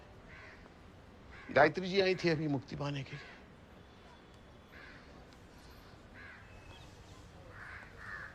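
Crow cawing several times, a couple of loud harsh calls followed by fainter repeated caws in the distance, with people speaking Hindi over the first calls in a family drama scene.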